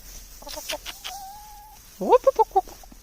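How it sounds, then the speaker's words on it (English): A large chicken on a farm gives a short run of loud, close clucks in a quick rhythm, preceded by softer calls and a faint whistle-like tone. "it's the biggest chicken around here"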